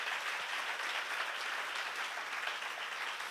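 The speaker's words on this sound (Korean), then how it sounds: "박수 좀 세게 쳐봐요." A church seminar audience claps vigorously, a dense, even wash of applause held at steady volume from start to finish.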